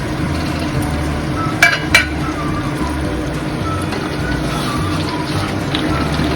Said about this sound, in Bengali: রান্নাতে আমি জল অ্যাড করবো খুবই সামান্য পরিমাণ, এতেই চিকেনটা রান্না হয়ে যাবে।